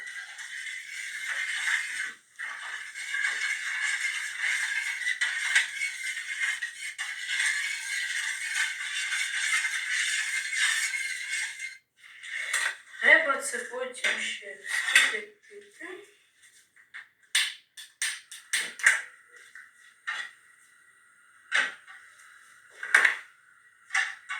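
A spoon scrapes and clinks against a dish in a steady rattling stir of ingredients for pickled mushrooms, then breaks into scattered separate knocks and taps.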